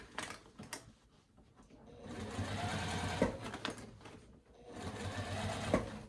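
A sewing machine stitches a quarter-inch seam in steady whirring runs, broken by short pauses and a few sharp mechanical clicks, close and clear with no talking.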